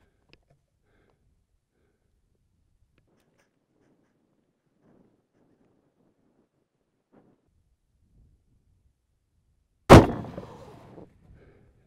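One sharp, loud Desert Tech HTI .50 caliber rifle shot cracks after a long stretch of near silence, then echoes and decays for about a second outdoors at a range.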